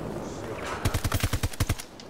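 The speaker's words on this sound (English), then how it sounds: "Wow, we're getting shot from up there." A rapid burst of about ten gunshots in Battlefield 2042 during chaotic Conquest combat, sharp and evenly spaced, following a moment of low background noise.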